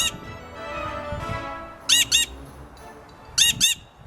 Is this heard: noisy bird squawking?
yes